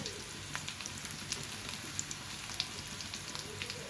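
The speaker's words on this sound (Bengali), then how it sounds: "এটা ভালো করে ভেজে নেব পেঁয়াজ রসুনগুলো" Onions and garlic frying in a pan of oil: a soft, steady sizzle with light crackling pops scattered throughout, fairly quiet and close, with no talking.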